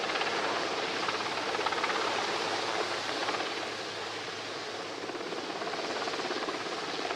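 A navy helicopter hovers over a commando demonstration at a Navy Day display in Visakhapatnam, giving a steady, loud broadband rotor roar that fills the whole clip without a break.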